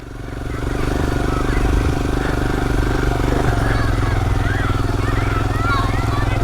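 Motorcycle ride through deep sand, with a steady close engine drone under wind and churning rumble that holds level throughout.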